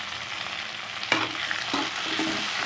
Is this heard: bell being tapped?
no